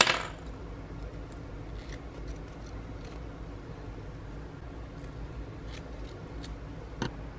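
Scissors snipping lace and labels for handmade baby and bridal shower favors, quiet sharp cuts scattered over a low steady background, with a louder snip at the start and near the end.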